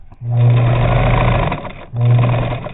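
A Bernina 830 sewing machine stitches in two close, loud bursts of steady rapid whirring, separated by a brief pause.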